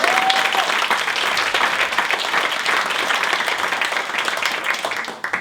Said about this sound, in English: Again, another round of applause.